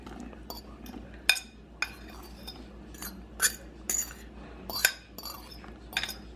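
A fork clinks against a bowl while folding liqueur-soaked cranberries into German-style cheesecake batter, a scatter of sharp metallic taps at irregular intervals over a quiet kitchen background.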